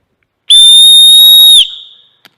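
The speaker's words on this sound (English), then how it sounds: "We have the tiniest whistle I think I've ever seen." A tiny survival-kit whistle gives one shrill, steady blast lasting about a second, close and loud, then trails off into quiet.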